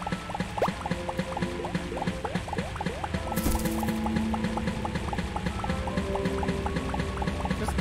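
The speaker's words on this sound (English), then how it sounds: "I'm just gonna keep draining the water" Water draining in the game Starbound, a constant stream of gurgling, bubbling liquid blips and drips repeating quickly over a faint musical background, steady and close.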